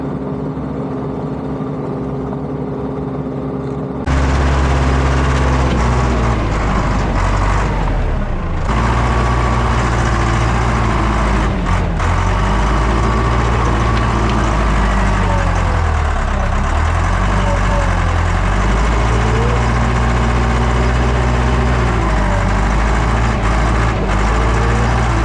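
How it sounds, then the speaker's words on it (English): A 1979 Ford F-250's 300 six-cylinder engine idles steadily with a deep, rough rumble after a quiet start, running on continuously and loud throughout. "There's just a haze of blue smoke over the whole yard from this thing idling."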